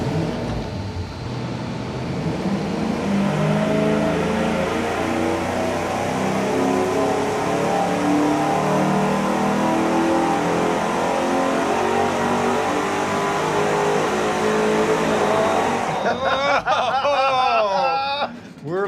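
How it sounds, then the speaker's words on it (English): Dyno-mounted V8 racing engine running hard on a single 3-inch exhaust with a turbo muffler and a 90-degree merge, a loud sustained roar with steady harmonics for most of the stretch, then cutting off into brief voices at the end. "We're ready to fire up and run it with the single exhaust with a turbo muffler"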